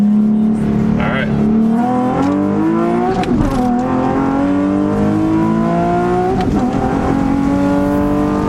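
Car engine revving hard and climbing in pitch, then dropping each time the manual gearbox is shifted through several gears, loud and close, with speech over it.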